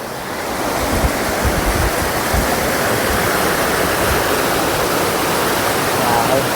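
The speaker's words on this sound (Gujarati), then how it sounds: "આ મસ્ત મજાનું આમ ઝરણું આમ કહેવાય કે આમ વહે છે" Continuous loud rush of a flowing stream beside a temple, a dense broadband roar with a low rumble underneath, steady throughout with no talking.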